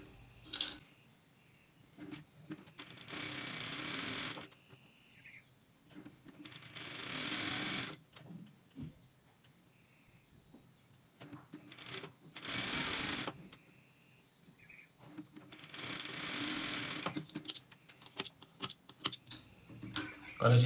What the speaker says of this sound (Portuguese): agora a gente passa uma costura em cima da risca aqui